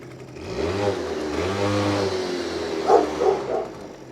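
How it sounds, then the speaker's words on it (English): A Yamaha Zuma Bugeye scooter with a freshly cleaned carburetor starts and runs, its small engine rising through a couple of revs before settling into a steady, close idle. "Start it right up."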